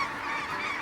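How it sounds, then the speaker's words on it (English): Geese honk during a goose hunt in Saskatchewan, Canada, many overlapping calls from a flock at middle distance, steady and moderately loud, with no talking. "Out in front, there's a pile of birds."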